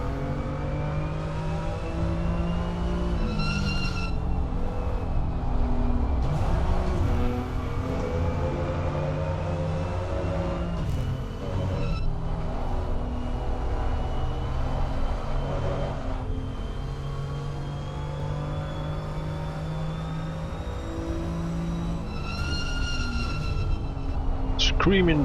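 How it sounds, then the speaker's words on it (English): A BMW M2 race car at Laguna Seca raceway with engine droning and shifting pitch, while high, thin brake whistles and squeals cut in repeatedly at moments, heard onboard beneath a commentator's voice. "Screaming brakes under the M2."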